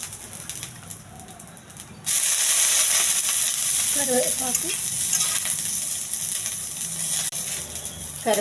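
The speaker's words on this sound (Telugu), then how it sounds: "కొద్దిగా నూనె, పొట్టుతో ఉన్న మినపప్పు అండి. కొంచెం దోరగా ఎగచ్చాలి." Husked urad dal is fried in a little oil and gives a loud, steady sizzle that starts abruptly partway through and runs to the end, with stirring scrapes and faint bird calls nearby.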